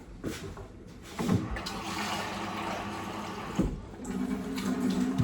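Water runs and splashes steadily into a small pan for Brussels sprouts, with a few clanks of metal, a continuous rushing pour close by.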